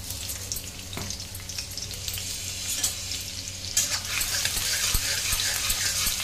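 Crushed garlic sizzles in hot oil in a kadhai, a steady close frying crackle with occasional stirring scrapes and a few sharp ticks, and no one speaking.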